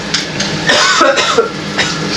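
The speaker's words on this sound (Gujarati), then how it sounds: "બહુ ઉધરસ આવ્યું આપે છે શાકે તો." A person coughs several times in quick succession at close range, loud and harsh, during a homemade Kathiyawadi dinner with spicy chili in the food.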